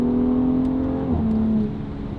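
A BMW X3 M with the S58 engine, Valvetronic Designs exhaust and stock downpipes makes a loud, steady, smooth engine drone as it passes close by, its pitch dipping slightly midway, with no one talking.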